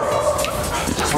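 A loud blind dog that dislikes strangers barks and yips close by in a short burst, with people talking over it.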